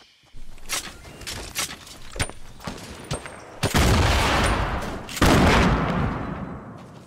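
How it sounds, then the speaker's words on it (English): Bursts of rapid gunfire in Fortnite battle royale: a few sharp single shots, then two long dense volleys of loud close automatic fire. "I don't know where these shots are coming from"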